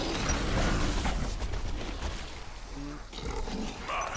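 A war machine powering up in an action combat video game: a steady, loud mechanical roar with grinding, ratcheting layers that holds throughout and shifts slightly toward the end.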